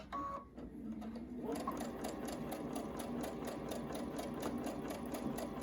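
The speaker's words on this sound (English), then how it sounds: "So we're going to sew right to where the opening is." A sewing machine stitching a fabric face mask, starting after a brief pause and then running in a steady, fast, close mechanical whir with rapid needle ticks.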